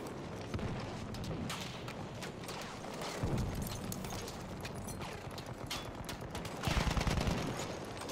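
Rapid weapon fire from the Battlefield 1 video game, a steady stream of sharp shots with louder bursts near three and seven seconds over a continuous din of battle, no voices.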